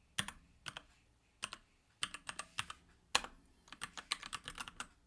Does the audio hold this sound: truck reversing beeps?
no